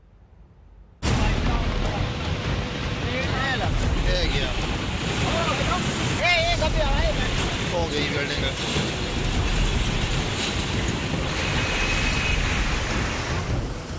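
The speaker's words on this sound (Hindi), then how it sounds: "धर्मशाला के पास गजगढ़ में पानी किसी बड़ी नदी की तरह बह रहा है।" Flash floodwater surges like a big river near Dharamshala, a loud, continuous broadband roar starting abruptly and holding steady with wind buffeting the microphone.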